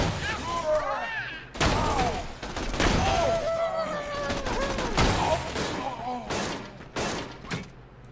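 Loud volleys of rapid gunfire from the video game Borderlands 2 come in repeated bursts separated by short pauses, with a voice talking over the shooting.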